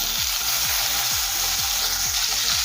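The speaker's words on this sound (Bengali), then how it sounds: "এখন এই একই তেলের মধ্যে দেবো ছোটো ছোটো করে কেটে রাখা পনিরের টুকরো।" Small paneer cubes frying in the same oil used for potatoes, giving a steady, loud, close sizzle with soft knocks as the pieces shift in the pan, and no voices.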